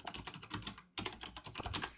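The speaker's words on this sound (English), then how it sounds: "While I was just typing real quick" Quick bursts of typing on a computer keyboard, dense rapid key clatter close up, with one brief pause midway and no talk.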